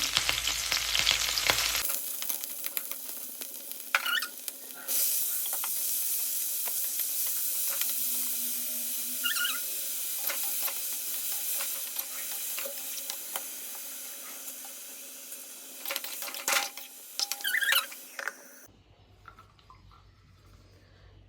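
Onion, green chilli and garlic fry in hot oil in a pan for cooking greens, a loud close hiss that drops away, returns and then fades, with scattered scraping.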